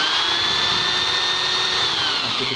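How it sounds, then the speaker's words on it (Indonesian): An electric drill runs on power from an automatic electric backup generator during a blackout, giving a steady, loud, close motor whine that holds its pitch and then drops slightly near the end. "masih bisa untuk melakukan pekerjaan mengebor. Kita coba ngebor ya"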